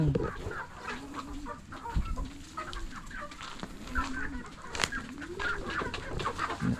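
Darag chickens cluck repeatedly in a farmyard, several birds close by with steady low murmuring and occasional sharper calls, no talking.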